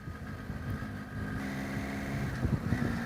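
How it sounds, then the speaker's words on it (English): A 2018 Triumph Tiger XCa with a triple-cylinder engine rumbles low and steady on the road, its drone mixed with wind noise and rising slightly toward the end. "different sound that I'm used to from the engine"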